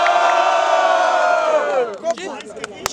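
A loud crowd at a freestyle rap battle roars and cheers together, then the noise breaks up into scattered shouts and whoops.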